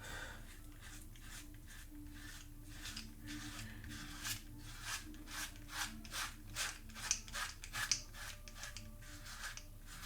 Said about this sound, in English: now you can hear there is little areas where the head blade Moto is finding some hair to shave off